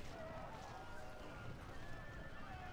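Horses whinny and hooves clip-clop in the fantasy strategy game Battle for Middle-earth, faint and buried in a steady wash of battle noise, with a voice partly audible underneath.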